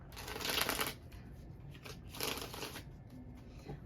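Tarot cards being shuffled by hand, two crisp riffling bursts of paper flutter close to the microphone with a quieter pause between them.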